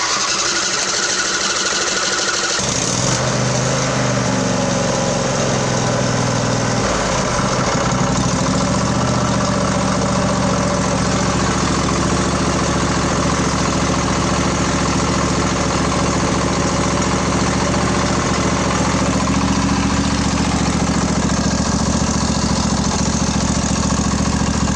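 A Craftsman LT1000 riding mower with a 20 hp engine cranks and catches after about three seconds, then runs steadily at idle with a loud, continuous mechanical rumble and rattle that holds to the end.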